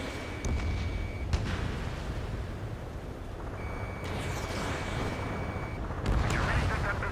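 Missile launch and explosions in the Ace Combat 7 video game, with rumbling blasts and roaring bursts layered over a steady tonal warning beep, all fairly loud and continuous.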